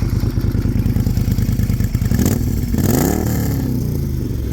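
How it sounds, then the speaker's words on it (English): A Moto Guzzi Griso 1200 V-twin motorcycle engine idles with a loping, uneven thump, then revs up sharply and settles back, loud and close to the exhaust. "I'll let you hear its raw sound here from the exhaust."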